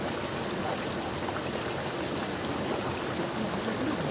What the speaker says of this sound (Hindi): पानी का बहने का आवाज़ बहुत अच्छा लग रहा है सुंदर।